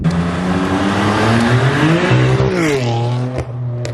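A loud BMW F80 M3 with an aftermarket exhaust revs and drops, harmonics sweeping up and down, with crackling exhaust burbles and pops on the overrun.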